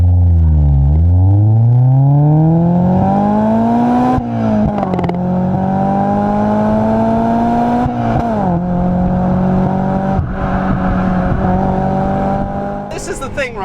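A Honda Accord Euro Type R accelerates hard, its engine note climbing through the revs loud and close, with brief dips at gear changes before pulling up again, and a sharp noise right at the end.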